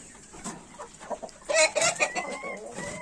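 A hen clucks repeatedly in short, uneven bursts in a chicken coop, growing louder midway, with faint farmyard bird calls around it.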